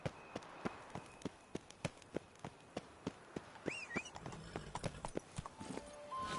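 Hooves of Roach, the horse in The Witcher 3, clip-clop in a steady galloping rhythm, close and distinct, with a brief whinny partway through and faint ambient game sounds underneath.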